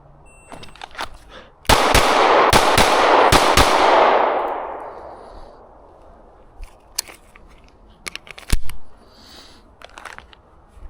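Sharp gunshots crack during range shooting drills on a spring day, a tight burst of loud reports followed by a long fading echo, then scattered fainter clanks and pops.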